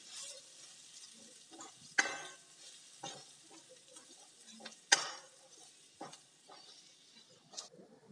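Spices with garam masala are sautéed in a pan, giving a soft sizzle broken by a few sharp spoon knocks and scraping stir strokes against the pan, close and fairly quiet, with no voices.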